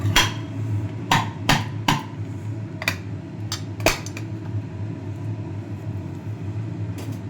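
A fully boiled egg's shell is tapped and cracked against a plate, a few sharp knocks spaced apart, then quieter peeling over a steady low hum.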